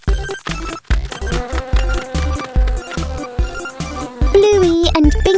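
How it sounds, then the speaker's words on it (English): Cartoon bees swarm out of a beehive hanging in a tree, a busy buzzing drone with stylized tonal whines that keeps going under bouncy animated music. "Suddenly, the bees fly out."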